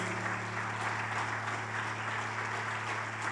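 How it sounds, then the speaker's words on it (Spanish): A large church congregation applauds steadily and loudly, a dense wash of clapping with a low hum underneath that holds throughout. "Dale un aplauso fuerte al Rey de los cielos."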